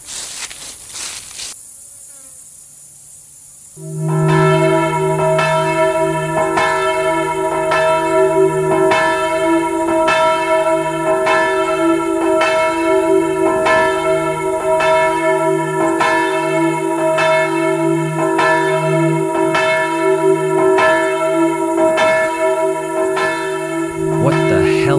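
An old bell, long left untouched, rings again and again in a steady, resonant rhythm, each strike leaving a long ringing tail beneath a constant high insect-like drone.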